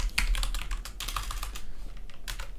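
Fast, steady typing on a computer keyboard, crisp close key clicks running continuously with slight rhythmic bunching and nothing else over them.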